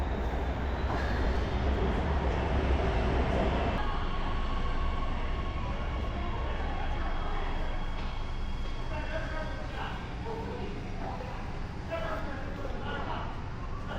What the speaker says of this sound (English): I'm switching to the subway now,